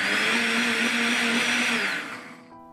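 A blender whirs loudly and steadily, purees spinach with 100 ml of milk into a smooth batter, then winds down near the end.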